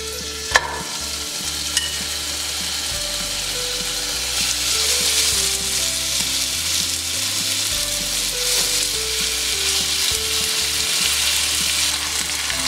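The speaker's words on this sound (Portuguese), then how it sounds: "aqui eu já percebi que meu óleo já aqueceu bem a minha banha suína. Tá acrescentando as bistecas." Pork chops frying in hot pork lard, a loud, dense, continuous sizzle and crackle that keeps up without a break, with a couple of sharp clicks near the start.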